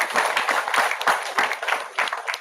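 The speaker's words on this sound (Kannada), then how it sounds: "ನಾನು ಗೊತ್ತು ನೀವು ಯಾಕೆ ಚಪ್ಪಾಳೆ ಹೋಗ್ರಿ ಅಂತ." Audience clapping at a first-year engineering class inauguration, a steady dense wash of hands through the whole stretch, moderately loud and fairly close, with no speech over it.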